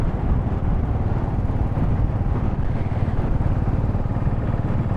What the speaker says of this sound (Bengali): আর প্রচুর বাইক চলেছে দেখছি রাস্তায়।